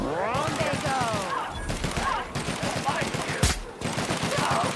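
Gunfire in The Outer Worlds: Spacer's Choice Edition, with a sharp loud shot cracking out amid rhythmic game noise and a voice talking over it.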